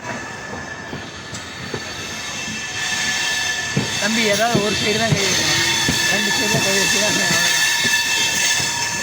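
Train wheels rumble and clatter along the rails near Basin Bridge in Chennai, rising to a loud rolling din with squealing metallic tones, while someone talks over it.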